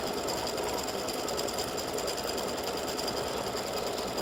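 An embroidery machine stitching clover-shaped earrings runs in a continuous, fast, even mechanical whir with rapid needle chatter, steady and close, no voices over it.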